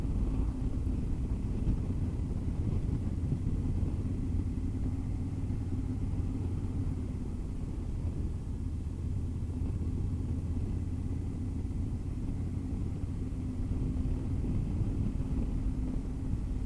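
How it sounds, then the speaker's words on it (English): A Triumph Thunderbird 1700 motorcycle on the road gives a steady low engine rumble mixed with constant wind roar, unbroken for the whole stretch with no voices. "I hope you enjoyed riding with me on the big old Triumph"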